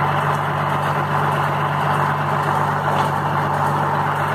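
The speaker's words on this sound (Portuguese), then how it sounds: "Ó, o caminhão tá ali." A truck delivering bricks sits idling nearby, its engine giving a steady low rumble throughout with no voices over it.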